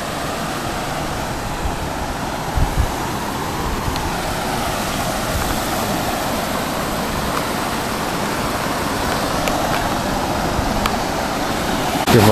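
River water rushing over rocks on the Sathuragiri hill trek, a continuous broadband roar of flowing water, steady and fairly loud throughout with no voices.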